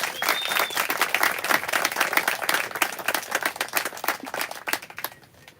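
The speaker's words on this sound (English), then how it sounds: "Let's give them a round of applause." Guests at a wedding celebration applaud the newlyweds, a dense round of clapping from a modest crowd that holds steady and then tapers off at the end.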